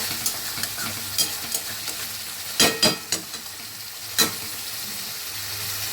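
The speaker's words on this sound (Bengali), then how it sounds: "তাই নিচে দিয়ে একটু খোঁচা দিয়ে দিচ্ছি যাতে লেগে না যায়।" Large prawns frying in a small wok are poked and stirred from underneath, giving a steady close sizzle broken by a few sharp scraping clatters of the utensil, with no talk.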